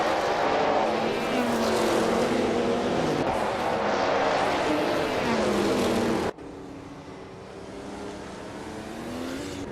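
Engines of race cars in a video game race drone and whine continuously, with shifting pitch as the cars jostle closely for position, staying loud throughout and dropping slightly in level partway through.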